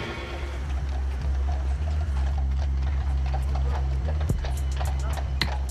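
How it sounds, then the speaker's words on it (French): Horse hooves clip-clop along a town-centre street in Beauvais amid steady low engine rumble and traffic noise, the sharp hoof strikes growing more distinct toward the end. "le bruit des sabots d'un cheval"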